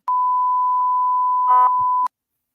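A steady electronic tone runs on an emergency call line for about two seconds, broken by brief clicks and a short burst of higher beeping near the end before cutting to silence.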